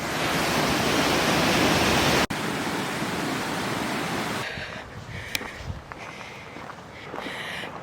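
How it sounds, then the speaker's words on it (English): A waterfall roars at the top of the falls during a solo camping trip: a loud, steady broadband rush that cuts off abruptly and then continues noticeably quieter, with a few bumps and knocks. "This is the top of the waterfall."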